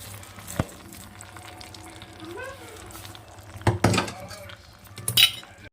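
Tempering added to a Kerala-style parippu dal curry in a pan, with a soft sizzle, scattered spoon-on-pan clinks and a couple of sharper knocks.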